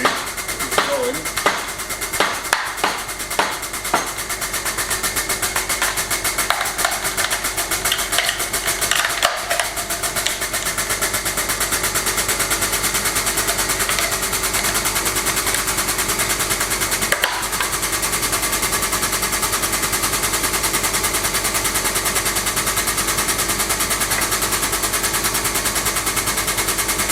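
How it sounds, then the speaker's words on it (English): A log splitter starts with a few sharp knocks, then settles into a loud, continuous mechanical drone with a fine rapid chatter, close by and steady throughout. "here's a log splitter demonstration"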